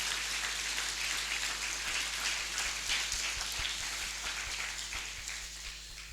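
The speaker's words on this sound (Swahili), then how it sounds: "Est-ce qu'on peut acclamer pour la gloire de Dieu?" A church congregation at a French and Swahili thanksgiving and communion service applauds to the glory of God. Steady, dense clapping runs throughout under a low hum, fading slightly toward the end.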